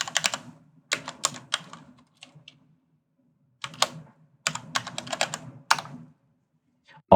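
Computer keyboard typing to rename a node in node-editing software, close clicky bursts of keystrokes separated by short pauses, with no speech.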